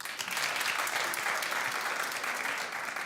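Sustained clapping from a studio audience showing agreement on a talk show, a thick, even roar of many hands close and loud from start to finish.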